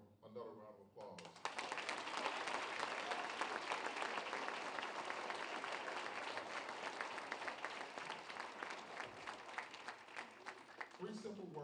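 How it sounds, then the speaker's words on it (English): A school audience at a Wreaths Across America ceremony gives Mrs. Serio a sustained round of applause. After a brief quiet start, the thick, even crowd clapping rises and holds to the end, with a voice returning faintly at the close. "give Mrs. Serio another round of applause"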